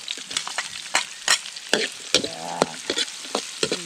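Onion fries in a pan at a mountain campsite, stirred with rapid repeated scrapes and clacks over a continuous close, bright sizzle.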